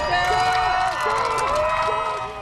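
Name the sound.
crowd cheering at Space Shuttle Atlantis launch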